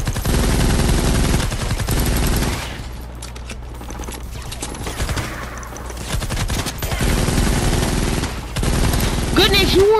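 A light machine gun fires in heavy sustained bursts at zombies in Fortnite Save the World, loud and close, with a quieter lull in the middle before the fire resumes.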